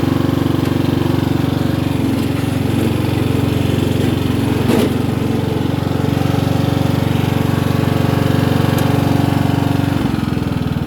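A riding lawn mower engine drones loudly and steadily throughout, with an occasional clunk or brief change in the motor's tone.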